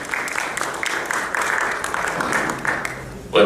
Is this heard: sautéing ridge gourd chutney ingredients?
no